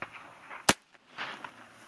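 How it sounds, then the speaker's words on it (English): One sharp gunshot rings out as the final round fired at a Level 3A kevlar vest, followed by soft rustling and handling noise. "And the final shot, here we go."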